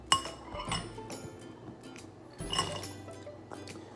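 A spoon clinks against a bowl as ingredients are stirred in a kitchen, making a few bright, irregular taps and scrapes close by, with no voices.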